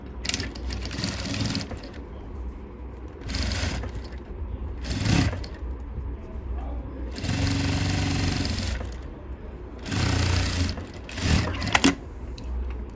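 A sewing machine stitches a sleeveless blouse in several bursts of rapid whirring, some short and some sustained, separated by quieter pauses.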